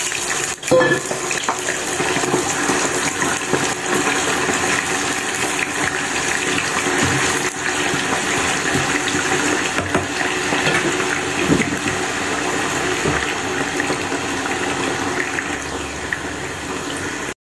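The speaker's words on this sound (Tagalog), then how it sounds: "magpapainit na ako ng mantika. Mag-a-add ako ng konting salt. And then, ilalagay ko na itong patatas." Potato pieces fry in hot salted cooking oil with a loud, continuous hissing sizzle that holds steady throughout without pause, close by and with no voices over it.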